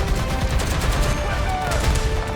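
Tank cannon and gunfire in the War Thunder video game, heard as a dense burst of loud overlapping blasts lasting a couple of seconds.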